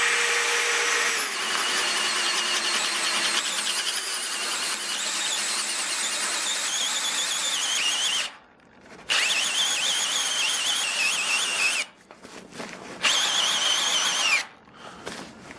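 Milwaukee and Dewalt 12V hammer drills boring holes, a sustained high whining motor drone that stops briefly three times with short gaps before restarting, fairly close and without talk.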